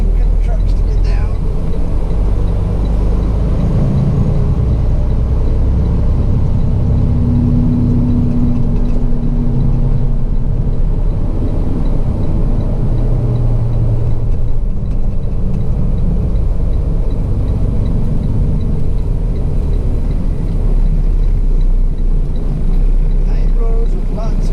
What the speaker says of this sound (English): These are some tight roads for big trucks to get down.